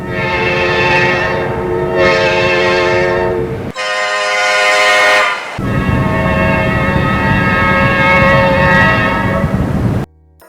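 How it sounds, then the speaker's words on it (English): A Nathan P01235 air horn on an Amtrak E60 electric locomotive sounds loud and close in three long chord blasts, each held for a couple of seconds or more with short gaps between, alone. "The E60 was equipped with a unique Nathan P01235 air horn at the suggestion of Don Teed. Here are a few samples."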